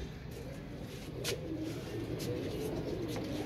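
Royal Teddy pigeons coo softly in low, rolling murmurs against a steady background hum, with no talking.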